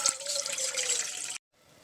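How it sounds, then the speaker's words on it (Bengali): Water poured into a pan to make sugar syrup for malpua, a steady splashing stream that stops abruptly after about a second and a half, leaving near silence. "আর এতে দিয়ে দেবো জল।"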